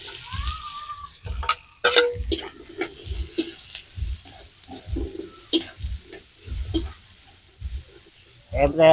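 Ingredients sautéing in a pan for Filipino kaldereta, a soft sizzle under repeated stirring and scraping thumps, with people talking intermittently over the cooking.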